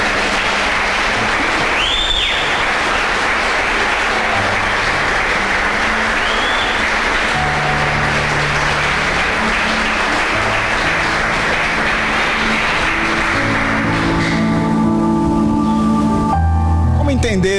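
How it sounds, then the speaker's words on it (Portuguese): Church congregation applauding during a Portuguese-language service, a loud, dense, sustained wash of clapping that carries on steadily for a long stretch before easing at the end, with a voice and some tones creeping in. "Você pode dar um aplauso a Jesus?"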